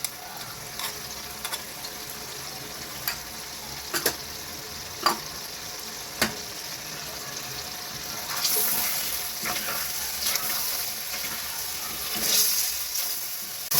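Chicken pieces fry in a karahi with ginger garlic paste and whole spices such as cloves, a steady close sizzle with intermittent stirring scrapes and clacks, swelling louder toward the end, no talk.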